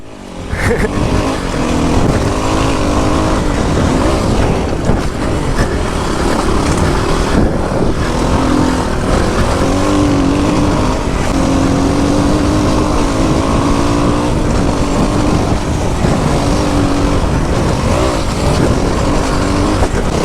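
A motorcycle ridden on the road runs with a loud, constant, rough engine roar through a silencer whose top nut has worked loose. No one speaks.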